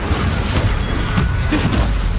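Incendio fire spell cast in Hogwarts Legacy, a loud sustained whooshing burst of flame with a deep rumbling boom underneath and a few sharper crackling flares toward the end.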